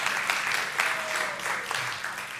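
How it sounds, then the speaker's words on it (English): A short burst of clapping from a small church congregation, brisk and fairly close, with a faint voice murmuring underneath. "Yeah, we could still clap for that."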